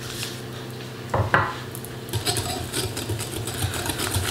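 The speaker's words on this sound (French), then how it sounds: "On vient mélanger. Ici, je le fais à la main." Egg, egg yolk, vanilla sugar and sugar are mixed by hand in a bowl for an apple almond tart, with close, busy scraping and clinking of a utensil against the dish, louder knocks near the start.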